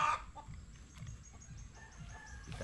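A chicken clucks somewhere outdoors in a few short, low calls. The sound is faint and fairly distant over quiet background noise, with a brief louder sound at the very start.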